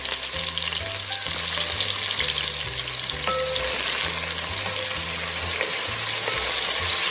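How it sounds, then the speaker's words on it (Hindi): Onions frying in oil in a pan for an egg curry, a steady loud sizzle with a repeating low clatter of stirring throughout, no voices. "अब इसको हम फ्राई करेंगे प्याज को।"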